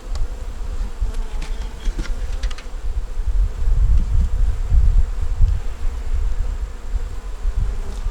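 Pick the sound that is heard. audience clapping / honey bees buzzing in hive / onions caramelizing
honey bees buzzing in hive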